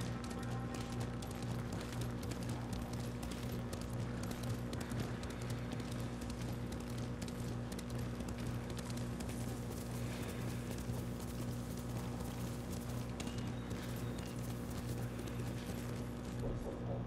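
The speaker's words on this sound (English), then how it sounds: "Right, running the horse where you get back to the mission." Horse hooves pound in a rapid gallop in the video game Ghost of Tsushima, a dense continuous drumming mixed with low rumbling ambience, steady and unbroken throughout.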